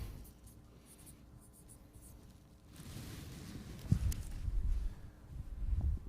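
A pen writes on a piece of paper in a lecture setting, with scratchy strokes growing louder and busier toward the end. There is no talk.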